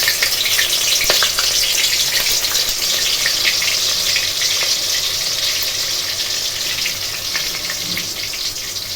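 Onion paste hitting hot oil in a pan, a continuous close sizzle and crackle of frying with occasional stirring scrapes, steady throughout and gently easing in loudness.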